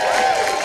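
Dense crowd applause and cheering fill a theatre at a mayoral forum, loud and continuous throughout a brief burst.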